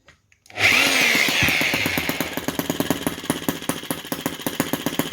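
A brass model Lanz T16B half-tracked tractor's small engine catches after a brief hiss and settles into a steady, rapid putter of regular beats, close and fairly loud, with no talking.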